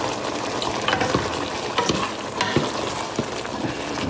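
Eggs frying in a pan for a Chinese tomato and egg stir-fry, a steady close sizzle with scattered crackles and scraping stir clinks running throughout.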